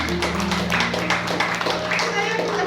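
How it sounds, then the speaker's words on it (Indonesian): An audience claps along during a church sermon, a steady stream of hand claps under ongoing talking throughout. "Oh, mereka tepuk tangan."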